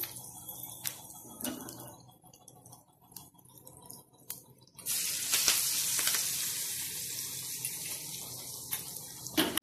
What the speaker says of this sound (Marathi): चांगलं तडतडून घेऊया. गॅस बंद करूया आणि ही मोहरी आपण याच्यावर घालूया.